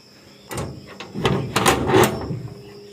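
A mosque washroom door is unlocked and opened, giving a few close knocks and rattles of the latch and wooden door over about two seconds before quieter room tone.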